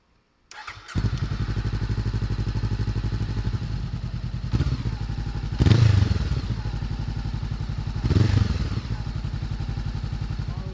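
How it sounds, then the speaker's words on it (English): A Honda CBR500R parallel-twin motorcycle engine with a Yoshimura slip-on exhaust starts and idles with a deep, throbbing exhaust note, revved twice in short bursts before settling back to a steady rumble. "you can't tell me that this bike with my Yoshimura slip-on doesn't sound good"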